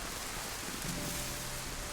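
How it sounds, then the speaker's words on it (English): Rain in the video game DayZ, a dense, even patter of drops on surfaces filling the whole moment at close range with no break. "That bloody rain is so..."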